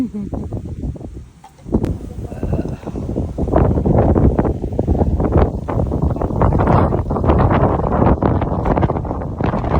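Strong, gusty wind buffets the microphone on a hilltop on Hatsushima island, Japan, rumbling loudly and steadily after a brief lull at the start.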